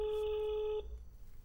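A telephone ringback tone on an outgoing call, one steady electronic tone that stops abruptly partway through, leaving low background noise as the call goes to voicemail.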